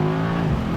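Mercedes-AMG E63s Final Edition accelerating, a steady loud engine drone with a strong low hum that holds its pitch throughout.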